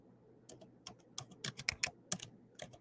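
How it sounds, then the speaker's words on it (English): Quick bursts of clicking keystrokes on a computer keyboard, close and fairly quiet, come in uneven clusters that speed up and pause, with no talking over them. "I was just typing quick."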